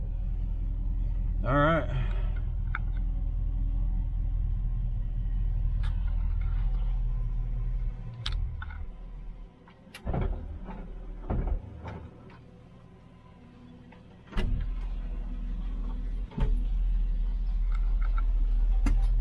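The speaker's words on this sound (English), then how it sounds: "Ooh, fired right up." A 1934 Buick engine, which had sat for about three days, fires up and settles into a low, steady idle rumble, with a few clunks and a brief word spoken partway through.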